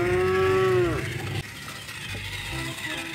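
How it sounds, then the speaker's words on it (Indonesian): A blue mother cow lets out a single strong moo at the start, close and clear, then it breaks off into quieter shuffling background noise. "Wow, dapat lagi kakak teman-teman, induk sapi warna biru."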